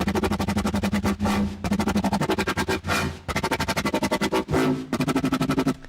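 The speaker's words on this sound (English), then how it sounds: "how to make this crazy FM screech sound thing" Harsh, buzzing FM synthesizer screech tones pulse in rapid, choppy wobbling bursts, with noisy bright sweeps breaking through every second or so, loud and alone.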